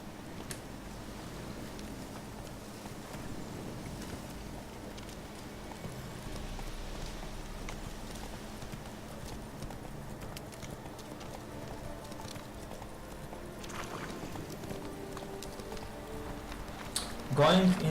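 Horse hooves clop steadily at a galloping pace through The Witcher 3, a soft, continuous rhythmic drumming under rain-like ambience, with a person talking over it.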